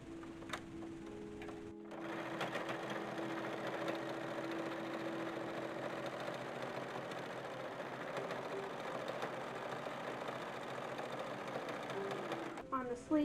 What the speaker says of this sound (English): All right, we're gonna sew the sleeves.